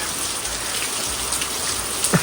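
Heavy monsoon rain in the Konkan patters down continuously, a dense hiss of drops striking surfaces close by, with no voices.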